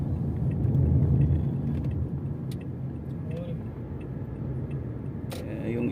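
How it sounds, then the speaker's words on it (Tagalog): Low road traffic rumble heard from inside a taxi in busy congested traffic, a steady engine and tyre drone throughout with faint passing noises and a voice now and then. "Traffic, daming sasakyan."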